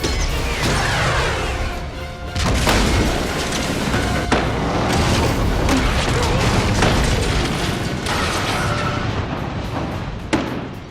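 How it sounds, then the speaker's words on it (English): Loud crashing booms and heavy thuds erupt in a chaotic burst from a film stunt explosion, with smashing debris and rumbling that continues for several seconds. "there's a huge explosion that happens in the back"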